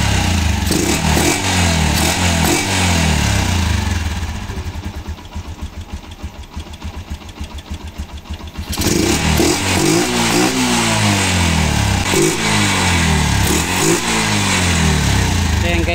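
A Honda Sniper MX135 motorcycle with its stock exhaust pipe runs loudly and steadily up close, its engine note dipping into a softer idle partway through before rising again, with people talking over it.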